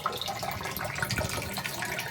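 Water runs steadily into a low-cost DIY home water tank, making a continuous close splashing and gurgling sound. No one speaks.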